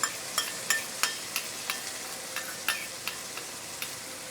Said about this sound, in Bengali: এর থেকে ভালো করে কাঁচা গন্ধ যাওয়ার অবধি আমাকে মশলাটাকে কষাতে হবে।